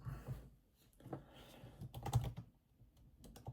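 Someone types a search on a computer keyboard, and a quick irregular patter of close key clicks comes in small bursts with no talking.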